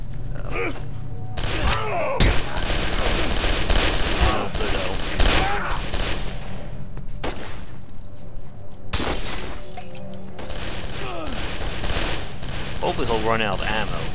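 An enemy opens fire in the video game Condemned: Criminal Origins, with loud bursts of gunshots and sharp shattering crashes packed close together, and a voice speaks briefly between them.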